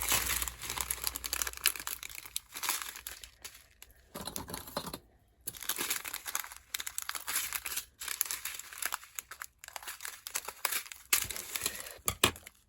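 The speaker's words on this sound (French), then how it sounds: "je vais chercher mon sachet numéro 13 et je vais l'ouvrir" A small plastic bag of diamond painting drills, labelled number 13, being handled and opened, giving continuous close crinkling and rustling of thin plastic with brief pauses, no speech.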